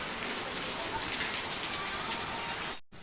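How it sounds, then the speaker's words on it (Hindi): Heavy rain pours steadily outside a village home, a dense, even hiss of drops on surfaces that holds for the whole stretch before cutting off abruptly near the end. "खूब झमाझम हो रही है,"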